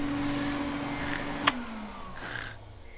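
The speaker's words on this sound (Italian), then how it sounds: "Niente, il motore dell'aspirapolvere." A cartoon vacuum cleaner motor drones with a steady hum, broken by a brief click and a small shift in pitch, at moderate loudness with no speech.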